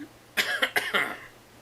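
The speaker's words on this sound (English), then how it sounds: "you don't need to cough on me." A short fit of four or five quick coughs, close and fairly loud, then quiet.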